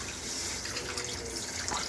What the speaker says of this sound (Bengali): মাছের মাথাটা ধুয়ে দিই।